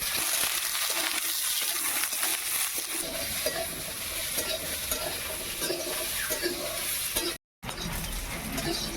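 Potato, carrot and beans fry in oil with a continuous sizzle while a utensil stirs them in repeated scraping strokes. The sound cuts out for a moment near the end.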